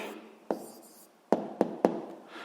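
Pen marks on paper as a math answer is written down, a few sharp taps and short scratches spaced irregularly, close and fairly quiet, with no talk.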